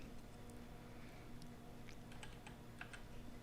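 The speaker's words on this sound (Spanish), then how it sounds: "Ingresamos el nombre del usuario y la contraseña." Quiet, soft key taps on a computer keyboard while a username and password are typed at a login screen, a short run of irregular clicks that gets denser near the end over a faint hum.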